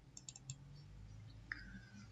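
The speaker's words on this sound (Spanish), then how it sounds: "Doble clic." A computer mouse is double-clicked while an image is being edited on a computer, giving a few quick, faint clicks near the start over a quiet room background.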